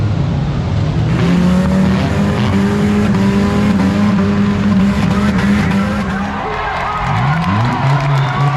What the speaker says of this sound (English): So the 4-cylinder cars are going first